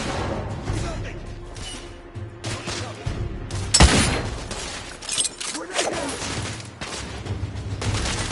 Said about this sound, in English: Bloody grenade!